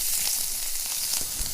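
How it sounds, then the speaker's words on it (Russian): Breakfast frying in a camping frying pan outdoors, a steady close sizzle and crackle of hot fat running throughout without speech. "Сковородка работает."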